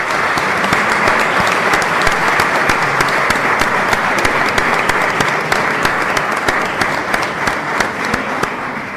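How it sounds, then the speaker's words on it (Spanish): An audience at a book presentation bursts into loud, sustained applause, a dense wash of many hands clapping steadily for the whole stretch without letting up. "un aplauso fuerte para empezar y entrar en calor a Juan de Dios Ruiz Copete."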